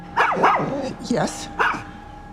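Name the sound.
dogs barking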